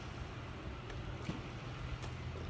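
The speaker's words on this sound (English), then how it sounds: "I might want to turn off my car." A parked car's engine runs out in the countryside, a continuous low rumble that stays even throughout with no voices.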